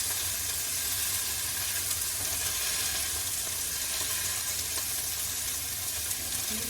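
Butter sizzles and fries in a pan with steak, a steady close hiss crackling without pause at moderate volume.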